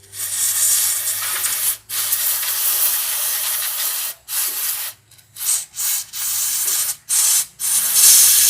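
Cleaner sprayed onto a Yamaha Mio motorbike fuel injector in a series of loud hissing aerosol bursts, one long spray then several shorter ones broken by brief pauses, close to the microphone.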